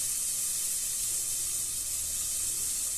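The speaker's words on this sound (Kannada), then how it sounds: "ಇದನ್ನೆಲ್ಲ ನಾವು ಹಸಿ ವಾಸನೆ ಹೋಗೋವರೆಗೂ ಈ ಥರ ಹುರ್ಕೋಬೇಕು" Green chillies and turmeric powder frying in a pan, a steady close hiss and sizzle of hot oil throughout.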